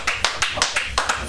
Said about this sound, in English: Bring him up, ladies and gentlemen, with a big round of applause, especially you in the back.